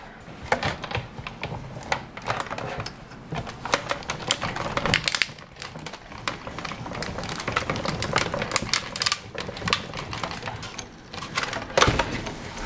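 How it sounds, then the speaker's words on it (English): A Big Shot die-cutting machine is cranked by hand as it runs a sandwich of cutting pads and sheet metal through its rollers, giving a dense string of close mechanical clicks and ratcheting taps at a moderate level throughout. "Then I'm going to just run that whole sandwich through the big shot."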